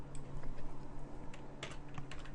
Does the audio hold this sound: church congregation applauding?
no